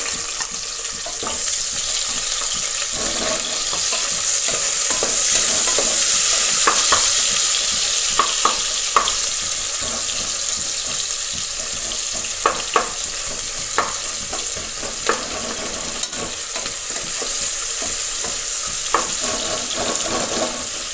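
Sliced big onions and tempering spices fry in a pressure cooker for chicken biryani, a loud continuous sizzle broken by repeated clinks and scrapes of a stirring spoon, with a brief running-water hiss early on and no talk.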